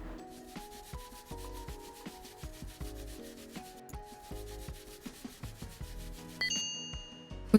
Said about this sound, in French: On nettoie, on frotte, on frotte.